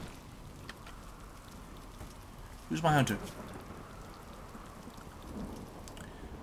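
Steady rain pattering in the video game RimWorld, with a single louder thunder rumble around the midpoint; a voice speaks briefly over the weather.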